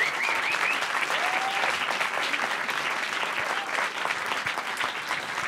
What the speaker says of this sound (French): Applaudissements pour Béatrice Martin